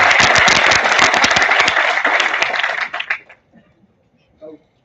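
Louder crowd applause from students at a B.Tech orientation, a dense loud burst of clapping that tapers off after about three seconds into a few scattered claps, followed by a brief voice.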